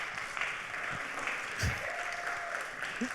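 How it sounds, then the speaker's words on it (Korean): Church youth service congregation applauding to welcome newcomers, a steady mid-level wash of clapping throughout with faint background voices mixed in. "모두 박수로 환영해 주시면 감사하겠습니다"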